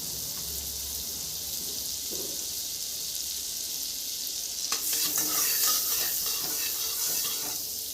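Butter melts in a heated kadai while making butter paneer, a soft steady hiss that swells into a louder, crackling sizzle partway through, close and with no talking.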